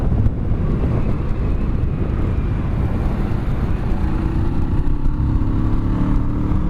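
A 2017 Kawasaki Z650 motorcycle on the move, its engine droning steadily under heavy rushing wind noise, with a rising engine note emerging toward the end of the run.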